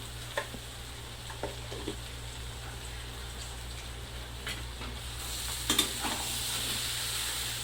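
Potato bhaji frying in a pan, a soft continuous sizzle with occasional spoon taps and stirring scrapes, growing a little louder and brighter near the end.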